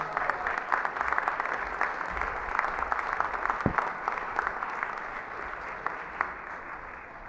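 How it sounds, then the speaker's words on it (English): A large audience at a Langara College graduation ceremony claps and cheers for the 2013 graduates in a dense, steady ovation that holds from start to finish without letting up. "please join me with your applause and cheers one more time in congratulating our graduates of 2013"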